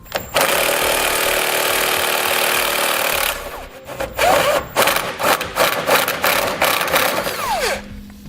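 An 18mm socket tool works on a hitch bolt on a 2014 Dodge Grand Caravan frame rail, giving a continuous mechanical whir for about three seconds and then a series of uneven ratcheting bursts and clanks, close and loud.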